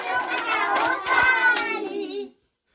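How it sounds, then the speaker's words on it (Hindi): Children clap their hands in quick, uneven bursts while their voices sing and chant a Hindi alphabet rhyme, the claps close and mixed under the singing until it stops abruptly. "बच्चों बजाओ ताली।"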